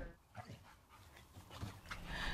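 A pair of pups give faint whimpers and panting in a short, quiet stretch under low background noise.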